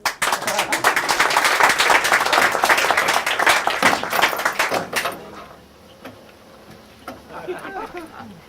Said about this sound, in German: Sie können klatschen, los.